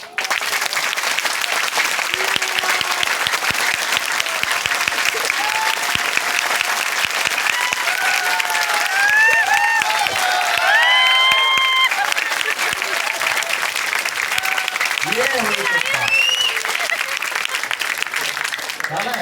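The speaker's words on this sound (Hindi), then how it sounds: "ताली बजाओगे तो जोर से बजाओगे। तो एक बार दिखा दो कैसे बजाओगे।" A crowd claps loudly and continuously at the opening ceremony of a multi-speciality hospital in Patna, with dense clapping throughout, voices and cheers mixed in, and some whistle-like tones.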